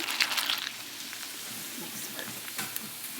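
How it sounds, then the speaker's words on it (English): Rinsed pumpkin seeds are dumped into a pot of boiling water, giving a short splashing rattle at the start that settles into a soft, steady bubbling and sizzle with scattered light ticks. "we're gonna go ahead and dump our pumpkin seeds that we've rinsed into the water"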